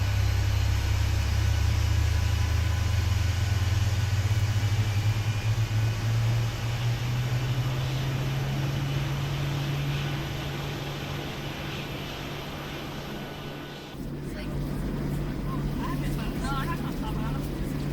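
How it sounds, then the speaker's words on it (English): Airliner cabin ambience in Microsoft Flight Simulator 2024 aboard a Qantas PMDG 737 climbing to cruise, a steady low engine drone with humming tones that shifts slightly near the end, continuous and enveloping. "That cabin ambience pack from the Airbus Sidestick does actually sound really realistic."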